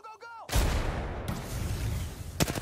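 Arc Star grenade in Apex Legends going off mid-fight: a sudden loud burst of crackling noise that holds for about two seconds, then a sharp second blast, with brief voice chatter before it.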